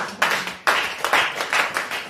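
A church congregation claps rhythmically in worship, with sharp, bright handclaps landing in a steady beat, close and lively.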